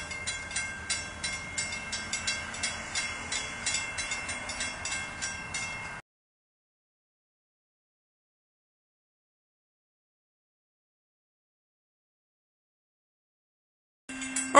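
An Amtrak train rolls past at Oakwood Avenue with a steady rhythmic clickety-clack of wheels over rail joints for several seconds, then the sound cuts off abruptly.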